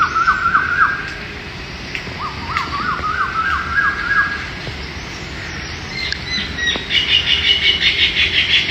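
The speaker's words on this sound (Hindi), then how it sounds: "इसके साथ साथ आप ये कोयल की आवाज़ सुन सकते हैं।" An Asian koel calls among green surroundings, repeating rising whistled notes in short series, fairly clear over a low outdoor background hum.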